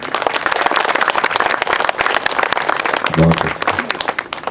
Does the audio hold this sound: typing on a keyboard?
no